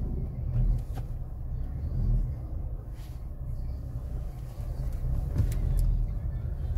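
A car's engine runs steadily with low rumbling road and motor noise while driving along, continuous and fairly close, with faint murmuring voices in the background.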